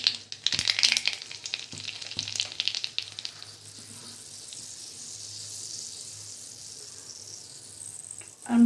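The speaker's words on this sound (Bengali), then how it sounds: "কড়াইয়ের তেল গরম হয়ে গেছে। আমি অল্প কালো জিরে দিয়ে দিলাম" Nigella seeds hit hot oil in a wok and crackle in a dense burst of sizzling and popping, which then settles into a softer, continuous hiss of frying close by.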